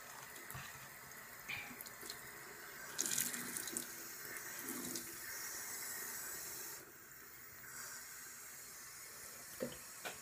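Tap water running into a bowl while it is rinsed with shampoo, a soft continuous hiss of flowing water with occasional splashes and clinks, close and quiet, with no voices.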